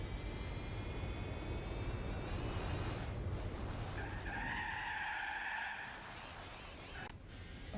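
In Gran Turismo 4 at Laguna Seca, a car's tyres screech in a sustained skid as snap oversteer breaks the rear loose, the squeal rising over steady engine drone before fading out.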